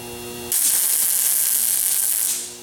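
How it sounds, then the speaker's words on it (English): Welding filler rod into gaps on a steel mace: a steady, loud crackling hiss that kicks in abruptly after a brief hum and runs unbroken for about two seconds before tapering off. "I'm going to use some filler rod and just lay it in those gaps and weld it over that."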